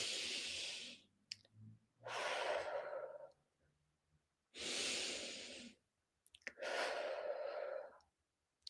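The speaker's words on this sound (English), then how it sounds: "one of the PQ reps could be just breathing out loud, slowly and maybe deeply" Slow, deep breaths taken out loud, heard as four long, airy exhalations and inhalations spaced by short silences, close and fairly quiet with no speech.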